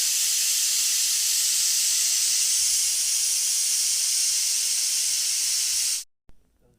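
A pressure cooker steaming cut jackfruit with turmeric and water lets out a loud, steady, close hissing whistle that lasts about six seconds, then cuts off abruptly into near silence.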